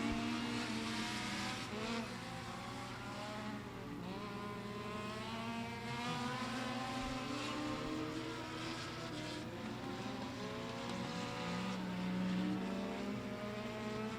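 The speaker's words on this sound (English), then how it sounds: "more hot lap session for the NX Legend cars here at the Beckley Speedway" NX Legend race cars run hot laps on the Beckley Speedway oval, engines droning steadily at a distance with rising and falling pitch as they circle, a continuous layered roar of several cars.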